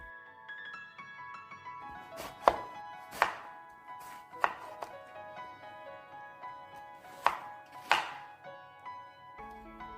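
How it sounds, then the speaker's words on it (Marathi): A knife chops bottle gourd into one-inch pieces on a board, giving about seven sharp, separate cuts with irregular gaps, close and clear against a quiet kitchen background. "दुधी चिरून घेते, साधारण 1 इंचाचे तुकडे करते."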